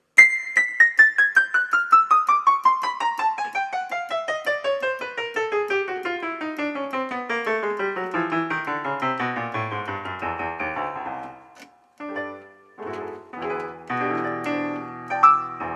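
A Yamaha PSR 2000 electronic keyboard is played with a long descending run of quick, evenly spaced notes, followed by a few sustained chords and shorter phrases, loud and clear with no talk.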